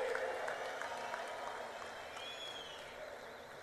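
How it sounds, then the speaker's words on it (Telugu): Audience at a political rally applauding steadily, a dense wash of clapping from a large crowd heard at some distance, with no speech over it. "చప్పట్లు ఏ విధంగా మారుమోగాలో ఒక్కసారి మళ్ళా చేసి చూపించండి."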